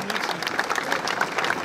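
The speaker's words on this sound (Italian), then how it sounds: "L'applauso di Oggiono per il vincitore, Arm Van Hoeke." A crowd in Oggiono applauding the winner of a cycling race, Belgian rider Arm Van Hoeke of Lotto Soudal, at the Piccolo Giro di Lombardia: sustained, fairly distant clapping with scattered voices mixed in.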